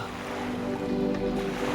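Sea waves washing at the shoreline where the land ends, in a Hanuman mythological TV drama: a brief, steady wash of surf under a sustained musical drone.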